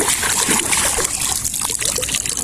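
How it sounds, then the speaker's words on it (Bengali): Something is washed under running water: a close, continuous splashing trickle with no clear pauses, lasting a couple of seconds. "এটা এখন আমি ধুবো সুন্দর করে ধুয়ে নিয়ে যাবো"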